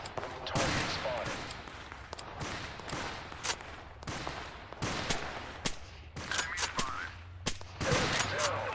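Bolt-action Kar 98 or Carcano rifle fire in the Total Conflict: Resistance video game, a series of sharp cracking shots spaced through the clip amid a busy battlefield din, with other gunfire trailing off.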